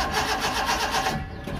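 A Suzuki Carry 1.0 engine with worn camshaft lobes is cranked on its starter, giving a steady mid-loud churning whir that runs through most of the moment and eases off near the end without catching.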